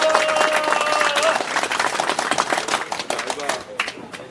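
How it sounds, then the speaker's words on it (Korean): Applause and clapping from a crowd at a 38th anniversary memorial ceremony in Suwon, dense and steady throughout with voices mixed in, tapering slightly toward the end. "큰 박수 부탁드릴게요"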